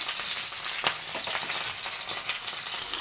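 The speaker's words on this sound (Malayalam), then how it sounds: "ഇതാ പാൻ ചൂടാവാൻ വെച്ചു ഇതിലോട്ട് നമുക്ക് ഇതിട്ട് കൊടുക്കാം" Pearl spot fish (ayila) frying in a hot pan, a steady close crackling sizzle with small pops and spatters throughout, no voices.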